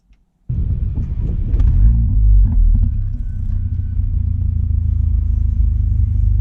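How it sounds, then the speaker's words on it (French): A Mercedes GLA 45 AMG engine cranks and catches after a short silence, flaring briefly before settling into a loud, steady, close rumbling idle that continues to the end. "je vais déjà démarrer aussi la voiture comme ça"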